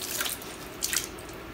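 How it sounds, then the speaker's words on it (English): Water dripping and trickling from a soaked wash cloth being lightly wrung out for a hoseless winter car wash, a few close, quiet splashing drips over a faint steady background hiss with no talking. "It's been soaking for a while. So just take it, see how it's dripping?"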